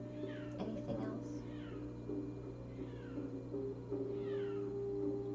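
A cat meows several times in drawn-out, falling cries under a steady background hum, with a low murmur of voices around it.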